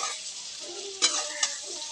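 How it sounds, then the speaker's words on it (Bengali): Potato, green banana and fried fish curry bubbling in a pan after hot water is added, a steady hissing simmer with two brief clinks, close and moderately quiet with no voices. "এখন কি সুন্দরভাবে তরকারিটা ফুটে উঠছে"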